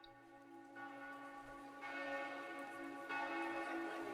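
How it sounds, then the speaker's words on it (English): Sampled church bells in a progressive rock track ring out in quiet, resonant strikes, each new toll swelling over the lingering hum of the last. "sample church bells"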